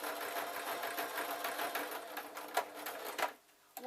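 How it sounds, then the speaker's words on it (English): Sewing machine stitching the top of fabric jester slippers, running in a steady close whir that stops abruptly near the end. "I'm going to sew up the top just to keep it together"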